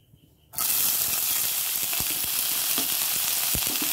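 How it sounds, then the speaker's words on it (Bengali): Bottle gourd peels drop into hot oil with black cumin and burst into a loud, steady sizzle after a brief quiet start, frying continuously close by with occasional crackles. "এবার এটা গরম হয়ে গেছে,"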